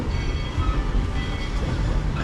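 A steady, loud rumble of a train rolling along the tracks, heard from on board a theme park train loop, with a constant low roar and faint rattling.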